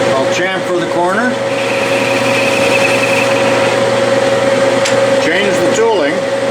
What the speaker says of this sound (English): I'll chamfer the corner.